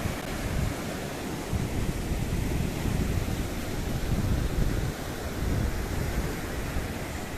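Strong sea wind buffets the microphone on a coastal cliff in Natal, giving a continuous loud roaring rumble with gusty surges and no voices.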